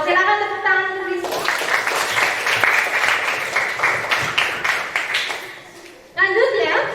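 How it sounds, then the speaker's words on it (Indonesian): Students in a classroom clap for a classmate, a burst of close, uneven applause lasting several seconds that fades out, with a teacher talking before and after it. "Silakan tepuk tangan untuk Fiska."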